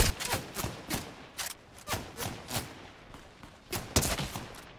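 Rapid bursts of Fortnite gunfire crack out in uneven volleys, several loud shots clustered together with short gaps between them, close and sharp over a noisy game background.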